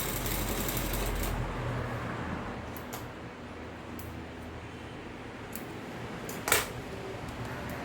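A sewing machine stitches fabric for a girl's frilled frock, a quiet continuous whirring with a few light clicks and one sharper tap near the end.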